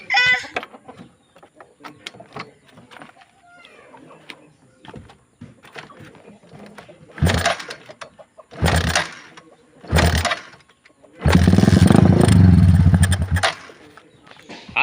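A stock motorcycle with a misfiring engine and a dirty carburetor sputters after kicks, catching in short coughing bursts before running rough for a couple of seconds, with chickens clucking faintly in the background.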